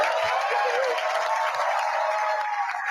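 Audience applause in a studio setting, a dense, steady wash of many hands clapping that holds loud and even throughout, with a faint voice or two mixed underneath.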